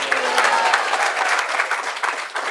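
Dense, steady applause from an audience at a devotional Mangal Aarti discourse gathering in Haldwani, a close, continuous wash of many hands clapping at once with no pause throughout.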